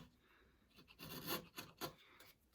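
A chisel pares a wooden surface flat at the base of a halving joint, giving close, quiet scraping rasps in a few uneven strokes that swell and fade against near silence.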